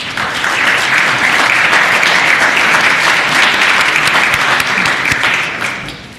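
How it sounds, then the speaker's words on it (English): A crowd applauds in the Virginia House of Delegates chamber during a regular session, a loud, dense burst of clapping that holds steady for several seconds and then tapers off. "Let's give them a warm round of applause"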